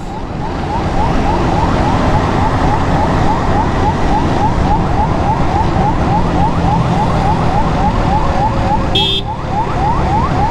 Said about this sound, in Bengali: এটা একটা অ্যাম্বুলেন্স।